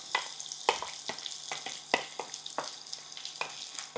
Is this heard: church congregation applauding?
no